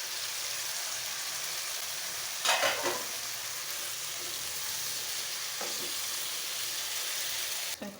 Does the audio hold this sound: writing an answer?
no